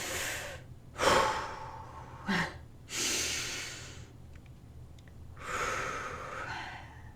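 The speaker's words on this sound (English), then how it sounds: "Can you guys just take a deep breath with me?" Several deep breaths, each a long rushing inhale and exhale through the nose and mouth, close up and alone in a quiet room, with short pauses between them.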